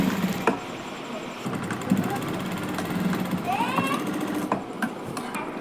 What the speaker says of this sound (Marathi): आता आपण शोल्डरला टीप मारून घेणार आहोत.